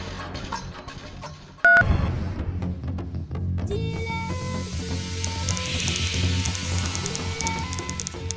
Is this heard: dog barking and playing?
no